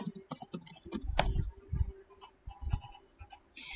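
Quick bursts of keys on a computer keyboard clack as a word is entered into MATLAB, several sharp taps then a few spaced strokes, close and fairly quiet in a calm room.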